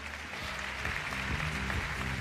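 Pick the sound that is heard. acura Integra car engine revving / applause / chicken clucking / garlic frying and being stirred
applause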